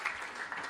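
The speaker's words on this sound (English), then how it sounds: "One more round of applause for Claudia and the team for pulling this off." Audience applause at an event at the MIT Museum, a brief steady patter of many hands clapping, moderately loud and close, with no voices.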